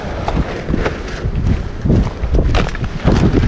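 Wind buffets the microphone outdoors on an old farm property in low, rumbling gusts that rise and fall, loud and close, with no voices.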